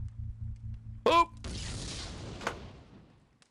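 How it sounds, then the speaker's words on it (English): An explosion in the video game Legends of Might and Magic: a sharp burst followed by a booming rumble that decays over about two seconds, with a second thud partway through. "That explosion seemed real."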